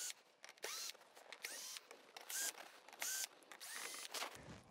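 A small power driver backs six screws out of a kayak transducer mounting plate, heard as short close whirring bursts that repeat at a quick, uneven rhythm, fairly quiet overall.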